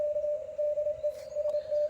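A Morse code CW signal received on a Xiegu X5105 radio, a single steady sidetone beeping in quick dots and dashes over faint background hiss.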